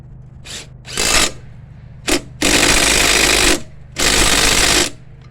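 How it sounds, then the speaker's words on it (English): A DeWalt battery impact driver fires off several loud, close bursts, two brief ones followed by two longer hammering runs about a second each, with short pauses between them. "my brother gave me this DeWalt impact driver one time"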